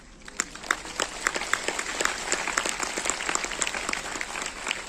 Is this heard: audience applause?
yes